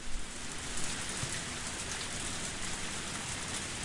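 Steady heavy rain from the visual novel game Higurashi pours down as a dense, even hiss of drops on surfaces, constant and moderately loud with no other sounds.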